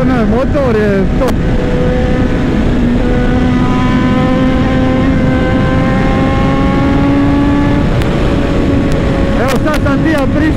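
A 2018 BMW S1000RR sport motorcycle engine holds a loud, steady droning pitch that climbs and then drops as it shifts into seventh gear, close to the rider and steady throughout.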